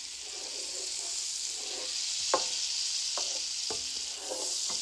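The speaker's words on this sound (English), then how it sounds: "So we're going to go ahead and melt our butter." Butter melting in a pan over medium heat, a soft, steady hiss with a few faint clicks and taps from a spoon or pan, no talking.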